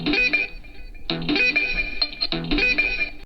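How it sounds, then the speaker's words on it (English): Audio plays through the AKG speakers of a Samsung Galaxy Book Flex2 laptop: a distorted, effects-laden music passage in repeating bursts, fairly loud, with no talking. "Speakers, by the way, they are still AKG and they sound like this."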